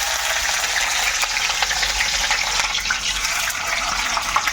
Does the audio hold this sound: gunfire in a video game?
no